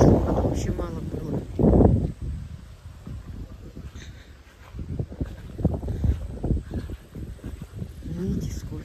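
Wind gusts sweep across the microphone outdoors in a garden, with rumbling buffeting that rises and falls, under a voice speaking Russian.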